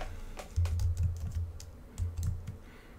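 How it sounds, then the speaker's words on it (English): Keys on a computer keyboard are tapped in short, irregular bursts of soft clicks, faint and close, with brief pauses between clusters of keystrokes. "If I start typing in playback"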